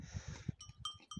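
A goat and its kid being caught on a mountainside while searching for a lost goat, with short bleats and soft animal sounds close by, faint and brief, plus a few light rustles.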